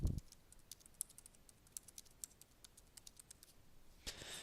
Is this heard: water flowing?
no